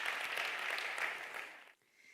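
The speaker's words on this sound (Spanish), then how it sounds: "Vamos a recibirles con un fuertísimo aplauso" Audience in a church applauding to welcome guests, a dense, fairly quiet patter of clapping that fades out toward the end.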